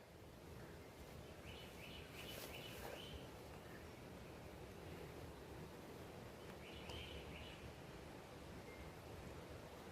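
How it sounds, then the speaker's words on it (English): At dawn, a few birds give short, distant chirps in two faint clusters over a constant outdoor wash of wind-like noise. "You hear all these birds?"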